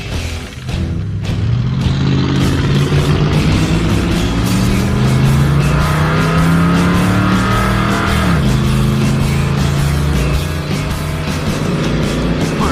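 A loud 1979 Ford Ranchero race car engine roars steadily down the track, pitch climbing as it accelerates, with a brief dip and recovery midway, no voices present.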